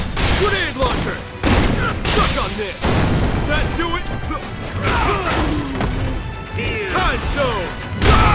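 Grenade launcher fire and blasts in the fighting game Marvel vs Capcom Infinite, a dense run of bangs, crashes and impacts at close range with layered game effects and voices shouting throughout.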